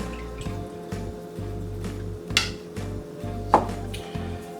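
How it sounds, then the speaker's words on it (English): Milk, oil, eggs and vanilla are mixed into batter in a bowl, with rhythmic wet whisking strokes near the mic and two sharper knocks of the utensil against the bowl partway through. "I'm just going to add that right on in and give it a good mix"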